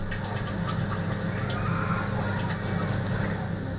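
A weak stream of water runs from a tap in a village dormitory with poor water pressure, a steady, soft hiss of flow continuing evenly throughout under a low background hum.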